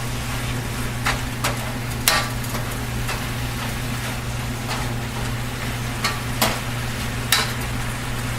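Bok choy cooking in a full wok gives a steady low sizzle, with sharp scraping or stirring clicks scattered across it and no voices.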